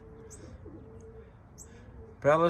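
A tame racing pigeon, a 2021 cock bird, gives a low soft coo in a loft with faint chirps around it, then a voice cuts in at the end.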